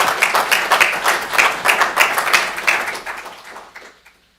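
An audience applauds at a city employee service awards ceremony in North Augusta, with brisk, lively clapping that stays strong for about three seconds, then tapers off and dies away to silence.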